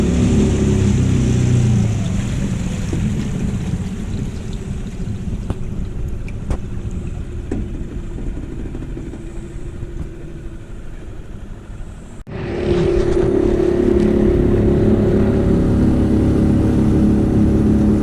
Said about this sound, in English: This is Chris's boat. He came across Fovo Strait.